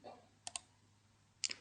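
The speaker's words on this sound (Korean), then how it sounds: "윈도우즈 프로세스 초기화 클릭, 실행하기 클릭." A computer mouse clicks while running a Windows process reset in a PC speed-up utility: a quick double click, a pause of about a second, then another sharp pair of clicks in a quiet room.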